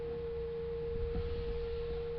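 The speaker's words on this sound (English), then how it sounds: "So now it doesn't sound like a pure sine tone anymore." A synthesized sine tone with added harmonics holds one steady pitch at moderate volume, with a faint low rumble underneath.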